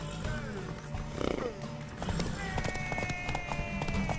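Rhythmic clip-clop of horse hooves with a whinny in The Witcher 3 video game, set against a busy background of music and game sounds.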